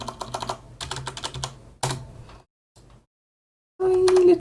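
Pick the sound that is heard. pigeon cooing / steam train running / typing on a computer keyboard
typing on a computer keyboard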